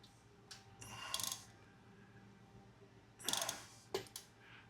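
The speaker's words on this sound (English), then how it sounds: "what I want to do is turn the crankshaft and line up" A Harley-Davidson engine's crankshaft being turned with a wrench during an EFI-to-carburetor conversion, giving two bursts of close ratcheting clicks and a soft metallic clink over quiet background.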